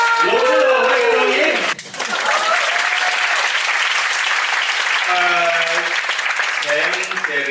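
Theatre audience at a packed musical stage show applauding: a steady wash of clapping runs throughout, with singing or sustained vocal tones heard over it at the start and again near the end.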